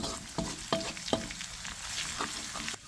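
Garlic sizzles in hot oil with a pinch of salt while being stirred, bright crackling frying noise punctuated by several sharp scraping stir strokes, close and without speech.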